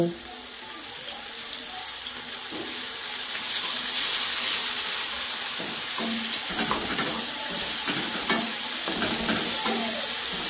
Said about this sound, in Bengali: পেঁয়াজটা ভাজা হতে থাক, তারপর বাকি মশলা দিচ্ছি।